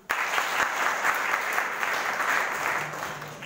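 Steady, loud applause from a school audience, clapping for a rangoli without a break.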